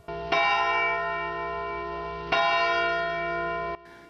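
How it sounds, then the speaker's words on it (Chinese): A school tower bell in French town style rings twice, each strike a bright metallic clang with a long sustained ringing decay, the two strokes about two seconds apart. "这是法国小镇的钟声"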